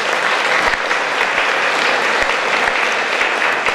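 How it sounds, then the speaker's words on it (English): A gala audience at a radio station's 20th anniversary celebration gives a round of applause, dense steady clapping from a large crowd, loud and continuous with no talk. "Please give him a round of applause."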